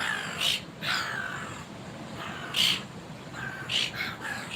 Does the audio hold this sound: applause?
no